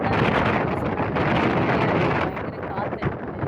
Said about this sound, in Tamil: பயங்கர காற்று அடிக்குது.